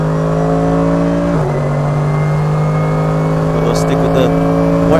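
A 2020 Mercedes-AMG GT3 race car engine drones steadily from inside the cockpit on a wet track, its note dropping at a shift then holding a strong, continuous hum with a brief higher whine near the end.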